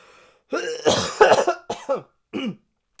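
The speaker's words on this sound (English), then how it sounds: "hold on a sec, I got a cough" A series of several harsh coughs, close and loud, with brief pauses between bursts.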